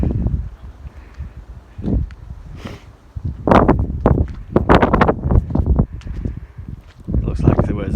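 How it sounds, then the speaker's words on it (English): Strong wind buffets the microphone outdoors on a windy hilltop near a WW2 anti-aircraft gun placement in the woods, coming as loud low rumbling gusts that rise and fall, mixed with rustling and talk. "Sorry about the wind outside, guys, because like I said, it's pretty windy up here."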